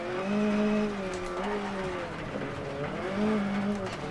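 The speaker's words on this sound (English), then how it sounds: "This car sounds amazing." A rally car engine in the racing game WRC 10 drones steadily, its pitch rising and falling with gear changes, loud and close, with a voice talking over it.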